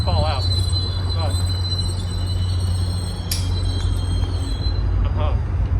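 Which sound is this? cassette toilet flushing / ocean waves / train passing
train passing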